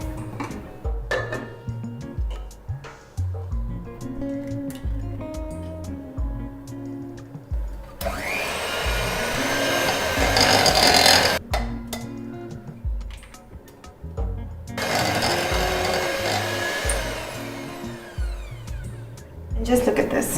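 Electric mixer whirring as it beats eggs into chocolate cupcake batter, in two loud sustained bursts of several seconds each, separated by talking and kitchen handling sounds.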